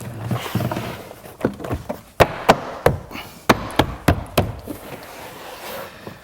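Plastic trim clips on a 2014 BMW 4 Series F32 door panel snapping into place, a string of sharp, close knocks and clicks in an irregular rhythm, spaced a fraction of a second apart, with no talking.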